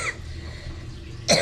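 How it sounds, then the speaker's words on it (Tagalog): A single hoarse, chesty cough from a person with a stubborn cough, sounding near and abrupt at the very end after a low steady background hum. "matigas pa talaga yung ubo ko"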